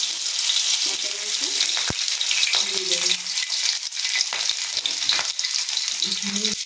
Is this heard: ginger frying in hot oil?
yes